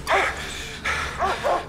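A dog barks close by in a French crime film scene, three or four loud yelping barks in quick succession with short pauses between them.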